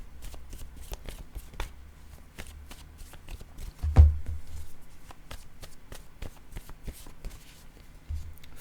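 Word cards being shuffled and drawn, a steady run of soft papery flicks and taps close by, with one louder thump near the middle and no talk over it.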